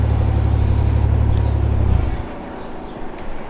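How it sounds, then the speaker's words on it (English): A BMW 435i engine idles with a steady low rumble for about two seconds, then cuts off abruptly, leaving quieter background with light movement noise. "I'm gonna turn my car off"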